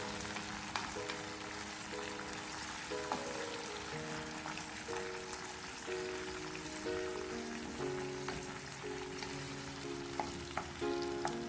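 Chicken cooks in a pan, sizzling and crackling steadily with a dense, even spatter close by, and an occasional scrape or clink as it is stirred. No one talks.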